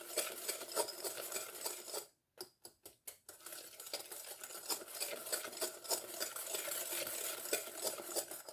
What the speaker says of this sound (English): Just give it a little mix while it's on heat.